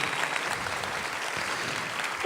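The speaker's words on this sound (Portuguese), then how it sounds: "A salva de palmas," An audience at a Brazilian Spiritist event marking Chico Xavier's birthday gives a dense, sustained round of applause, loud and even throughout with no talk over it.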